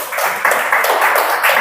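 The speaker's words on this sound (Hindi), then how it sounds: "ताली बजा सकते हैं इसके लिए।" A sermon audience claps together in a steady wash of applause, loud and sustained for a brief moment, with no voices over it.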